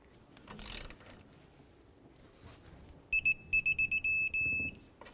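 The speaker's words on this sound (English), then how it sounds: "I'm just going to take my impact, tighten it up" An impact wrench tightens a castle nut on an upper control arm of a 2005-2021 Nissan Frontier 4.0L V6, giving a string of short, loud, close rattling bursts followed by one longer burst after quieter handling noises.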